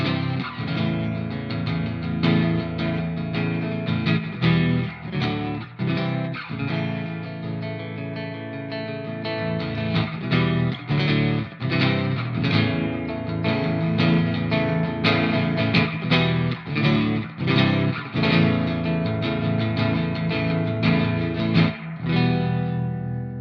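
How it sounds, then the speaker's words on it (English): A Squier Classic Vibe Bass VI played through the clean channel of an EVH 5150 amp rings out in a steady run of picked notes and chords, bright and full with a regular rhythmic pulse. "This is just the clean tone of the EVH 5150."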